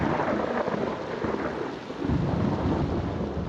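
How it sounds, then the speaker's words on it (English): Deep rumbling thunder rolls continuously in the Silent Hill video game, swelling louder near the end, with a steady hiss of heavy rain underneath. "We keep walking, and another thunder rolls in. This one, even louder."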